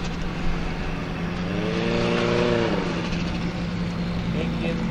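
An unlimited-class formula offroad race car at Hella, Iceland, approaches with a loud engine rising and sweeping in pitch as it arrives, heard under steady commentary.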